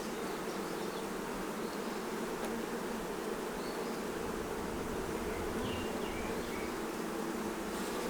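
A honeybee colony in an open hive during an inspection, with a dense, steady buzz of many bees close by, unbroken throughout and with no voices.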